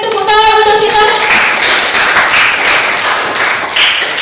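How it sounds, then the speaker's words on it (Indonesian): Applause breaks out in a classroom coaching session, a dense patter of many hands clapping that rises after a brief tonal sound at the start and stays loud and steady to the end. "Beri tepuk tangan untuk kita"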